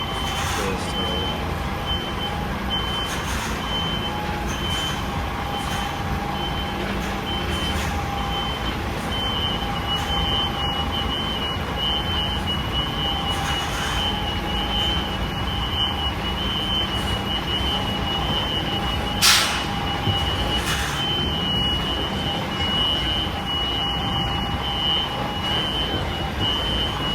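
A Class 1 truck reverses with its reversing alarm beeping in a steady repeating pattern throughout, over a constant low engine rumble, fairly close and with no talking.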